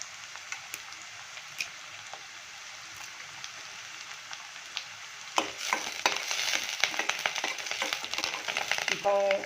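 Onions fry in a pan with green chillies and curry leaves added, a steady hiss that swells into louder crackling and scattered utensil clatter partway through.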